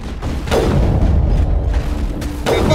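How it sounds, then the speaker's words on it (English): Sniper rifle fired in the video game Mass Effect: two heavy booming shots about two seconds apart, loud and close over a rumbling background. "this sniper rifle"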